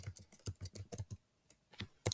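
Quick bursts of clicking keystrokes on a computer keyboard while filling in an online form, irregular taps close by with a brief pause in the middle.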